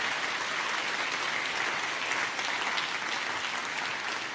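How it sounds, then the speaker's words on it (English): Warm, steady applause from a conference audience at a media forum, a dense wash of many hands clapping without pause. "a very big warm applause and thank you, Mr. Kinder, for answering the questions."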